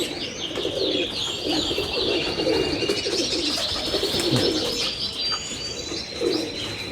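Teddy, Dubwale and Siyalkoti pigeons coo in low, throaty bursts nearby while smaller birds chirp high and constantly in the background.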